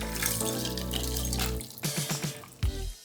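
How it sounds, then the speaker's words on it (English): A cocktail pours from a shaker into a Collins glass packed with ice, giving a steady liquid stream followed by several clinks and rattles of ice, close and with no talking. "Grab a Collins glass and fill it with ice. Pour it right into the Collins glass."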